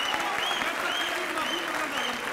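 Audience at a Faisalabad Urdu poetry mushaira applauds poet Zahid Bashir, a steady, dense wash of clapping from a crowd that carries evenly through the whole moment.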